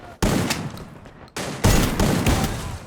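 Rapid gunfire in a shooting video game, dense loud bursts of shots filling the clip with a brief gap between volleys.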